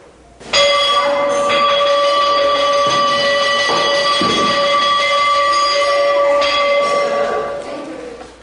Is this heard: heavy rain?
no